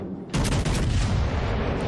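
Naval gunfire salvos in World of Warships Legends, a sudden loud broadband blast that keeps rumbling and crackling as a continuous barrage, close and dense, without speech over it.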